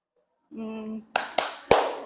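After a brief sung or spoken syllable, three crisp hand claps ring out in a classroom, close and loud, the last coming after a slightly longer gap.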